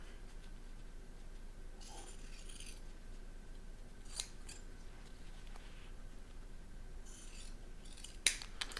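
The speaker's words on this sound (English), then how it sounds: "you can go ahead and trim away the excess fabric that is on the side of each zipper." Faint snips of scissors trimming excess fabric beside a zipper, a few soft, scattered cuts in a quiet room.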